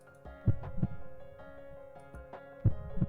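A heartbeat in a video game thumps twice, pauses, then thumps twice again, low and close over a steady faint hum, with no talk.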